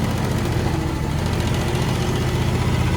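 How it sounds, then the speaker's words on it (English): A John Deere X734 AWS garden tractor with a 60-inch deck, its engine idling in a shop, producing a steady, loud, close low rumble with an even throb and no change in pace. "All right, we'll go ahead and idle that down and shut her off."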